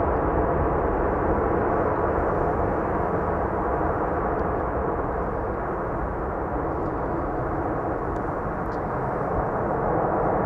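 A landing airliner's thrust reversers at Amsterdam Schiphol roar as a loud, steady, broad rumble that holds for about ten seconds with no break.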